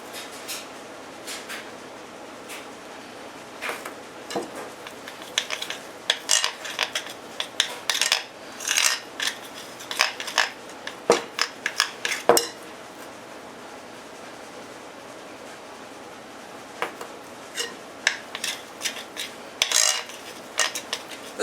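Cracker and protein bar dough is mixed in a bowl, producing irregular scraping and clinking knocks of a utensil against the bowl, some bursts close and loud, with quieter stretches between.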